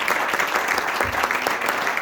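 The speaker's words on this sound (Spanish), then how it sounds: "Regálele un fuerte aplauso al Señor." A church congregation applauds during a sermon: dense, loud, continuous clapping from a crowd with a faint murmur of voices underneath, filling the whole moment.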